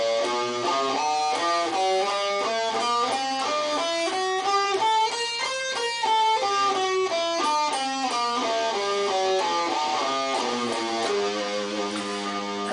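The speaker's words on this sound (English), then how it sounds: "that would be G melodic minor or G jazz minor" A guitar runs a G melodic minor scale up and back down in steady, evenly spaced single notes, ringing clearly with no talking.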